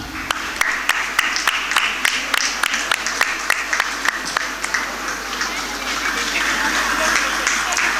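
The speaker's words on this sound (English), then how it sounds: "let's give a well-deserved applause to the graduates of Computer Application, Amina Hanina." A crowd at a women's college graduation ceremony gives a burst of applause, a rhythmic run of claps over a hall's ambient murmur that tapers off after about four seconds.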